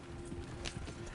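Horses running in Red Dead Redemption 2, a steady patter of hoofbeats carrying under a low continuous hum, with faint game ambience throughout.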